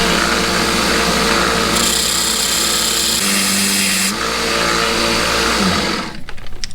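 Cut-off wheel grinding through a metal screw while fabricating a hidden winch mount for a Jeep WJ, a loud continuous high-pitched whine with shifting tone, ending in a spin-down and a few light clinks.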